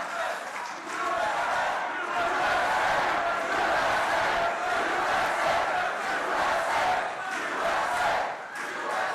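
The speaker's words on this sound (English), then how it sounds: "This is a big crowd of people." A large political crowd at a Pray Vote rally roars and cheers for several seconds, a loud sustained wash of many voices that swells and holds before easing at the end.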